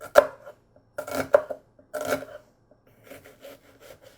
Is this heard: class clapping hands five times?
no